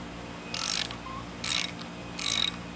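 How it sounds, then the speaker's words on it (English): A 5/8 spark plug socket on a ratchet works a spark plug on a 2014 Cub Cadet LTX 1045 riding mower, giving three short, close, rasping ratchet-clicking bursts over a steady low background hum. "you're going to need a 5/8 spark plug socket. I'm going to pop it on there like this."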